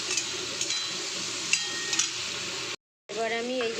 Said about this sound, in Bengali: চিংড়ি মাছটা একটু ভাজা হয়ে যাবে।